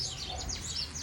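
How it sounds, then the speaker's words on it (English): Birds chirp and sing outdoors on a sunny day, a continuous series of bright, high tweets and trills over a low background hum. "The birds are singing."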